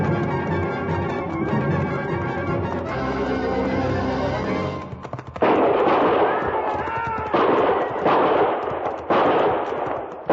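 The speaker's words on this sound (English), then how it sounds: "I knew from the sound of that first volley what had happened." Loud bursts of gunfire crack out in several sharp volleys over a rumbling, busy background, with a voice murmuring beneath.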